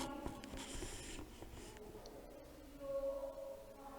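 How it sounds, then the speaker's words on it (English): Children writing in a first-standard classroom: faint, steady scratching and rubbing of pencils on paper, soft and close, with a low murmur of room noise. "Children, write nicely."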